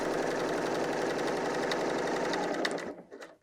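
BERNINA L 890 sewing machine stitching knit fabric runs at a fast, steady chattering rhythm, close and clear, then stops abruptly near the end, leaving a few soft handling clicks.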